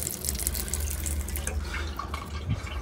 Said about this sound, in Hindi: अब एक बार हाथ में धोते हैं, लेकिन पानी बड़ा चिलड़ है